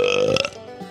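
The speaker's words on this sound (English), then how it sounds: "we have our unlucky recipient of the Undercountry Music News Wet Belch of the Week" A loud, wet, drawn-out belch fills most of the second, voiced and gurgling before it trails off into a quieter rumble.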